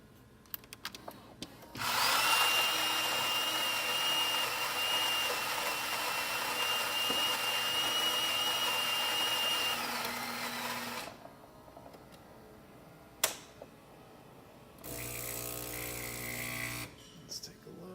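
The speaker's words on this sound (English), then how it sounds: "let's brew an espresso." A freshly cleaned and lubricated Gaggia Anima espresso machine brewing espresso: a loud, steady pump buzz with a thin whine runs for about nine seconds, then cuts off with a click, and a shorter second burst follows later. No one speaks.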